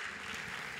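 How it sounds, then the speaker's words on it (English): Audience applause greets a keynote speaker walking on stage at a University of Cape Coast computer science event in Ghana, a dense, steady clapping that fills the whole brief moment with no voices over it. "Let's give him a round of applause as he comes on stage."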